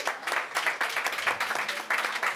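Brief burst of audience applause and clapping for a guest on a live show at SXSW 2015, steady and moderately loud for a couple of seconds.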